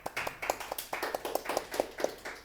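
A few people on a podcast set clap for a guest in a small, close round of distinct, fairly quick hand claps with a slightly uneven rhythm.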